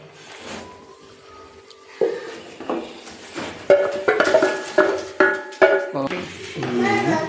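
A ladle works thick urad dal kali around a pot to keep it free of lumps, giving a rhythmic series of close metallic scrapes and clinks that grow louder, with a voice briefly heard.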